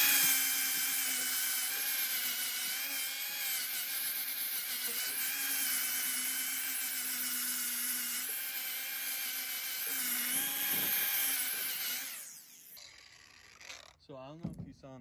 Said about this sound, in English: I'm just going to continue to grind it down.